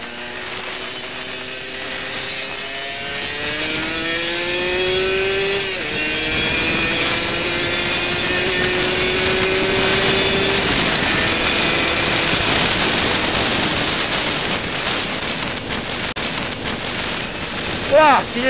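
A Kawasaki Ninja RR motorcycle engine revs up nearby during a top-speed run, its pitch climbing through several gear shifts over a steady road rush, then fading into traffic noise.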